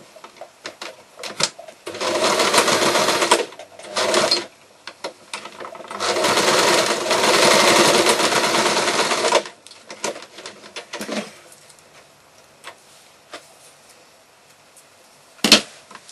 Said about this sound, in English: So you put that back on the machine and you sew that.